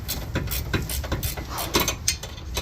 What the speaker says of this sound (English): So at this time we need to remove that two retaining bolts. It's 19mm.